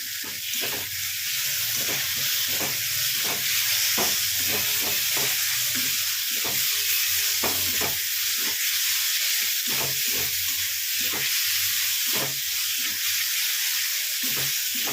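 Potatoes stir-fried with fish head and cabbage in a pan: a loud, continuous close sizzle with a quick series of spatula scrapes and stirring knocks over it, and no voices.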